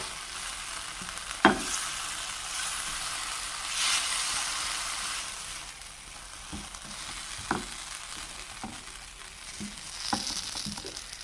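Food frying in coconut oil in a pan, a steady close sizzle with a few sharper spatters and stirring knocks, no voices.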